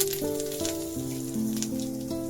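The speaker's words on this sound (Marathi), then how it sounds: "कढीपत्ता टाकूया" Curry leaves dropped into hot oil while cooking a spicy surmai fish curry give a steady, soft sizzle that runs under louder background music with stepped melodic notes.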